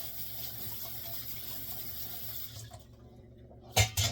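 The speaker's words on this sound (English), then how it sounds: "Rinse these off really well." Organic cherry tomatoes being rinsed under a running kitchen tap, a steady close splash of water for most of the clip that thins out near the end before a couple of brief louder bursts.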